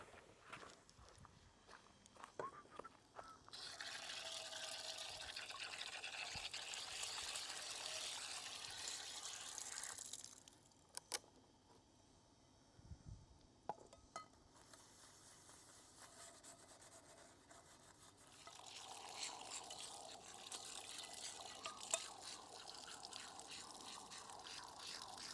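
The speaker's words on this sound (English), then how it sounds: "I can go and clean up some of these pots while that kind of cools down" Cooking pots are scrubbed and rinsed with water at a hot Texas campsite, giving close, continuous rubbing and splashing in two long stretches with a quieter gap of scattered clunks between them.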